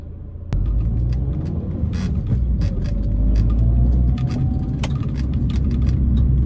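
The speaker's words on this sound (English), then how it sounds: "We're just going to take this car now through residential roads" 2005 Mini Cooper Park Lane driving on residential roads, heard as a steady low cabin rumble of engine and tyre noise with occasional small knocks and rattles, no talking.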